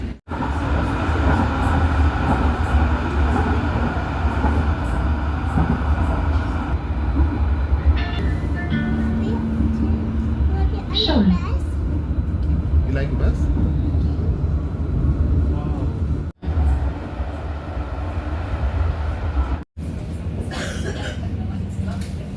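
Loud, steady rumble of a train rolling along in Bergen, Norway, with rattling and hum, a few brief squeals and dropouts, voices faintly present under the noise.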